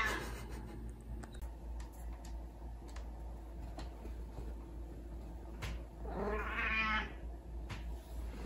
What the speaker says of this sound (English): Sorry for Coco meowing in the background.